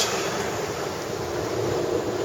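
Strong wind of 35 to 40 knots roars steadily across a sailboat at sea, with waves rushing and washing beneath it in a constant, loud, dense noise.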